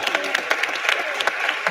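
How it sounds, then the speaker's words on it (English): Brief burst of applause at a university NAACP chapter event during a gubernatorial candidate debate, with distinct individual claps standing out over a light crowd. "can we give them a round of applause?"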